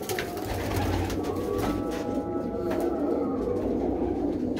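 Racing pigeons of a Punjabi fancier coo in their loft, throaty calls rolling on and overlapping, close and moderately loud with a faint flutter of other bird sounds.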